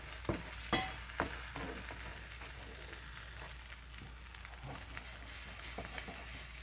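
Eggs frying in a pan, a quiet continuous sizzle and crackle with a few sharp taps and scrapes of a utensil early on, close-up, no one talking.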